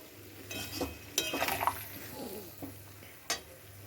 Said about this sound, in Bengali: তো এবার মশলাটাকে দিয়ে এটাকে কষিয়ে নেবো